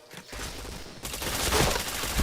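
Video game gunfire crackles in a dense, continuous fusillade of rapid shots, with a brief dip before a louder, sustained second stretch of firing.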